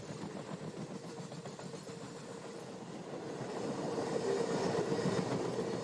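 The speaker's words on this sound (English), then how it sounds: "You wouldn't know it from the speed of this eastbound train" An eastbound Conrail train passes on the Chicago line near Seneca Yard by Lake Erie, wheels clicking rhythmically over rail joints under a steady rumble that swells louder as it nears.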